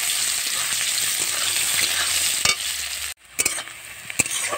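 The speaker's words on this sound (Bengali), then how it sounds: "এবারে যেই মাছের তেলটা ছিল এর মধ্যে আমি তরকারিটা বসিয়ে দেবো। প্রথমে এতে আমি পেঁয়াজ কুচি দেব।" Chopped onion fries in leftover fish oil for a village-style fish curry, a loud, close, steady sizzle with a few scraping stirs and a brief drop near the end.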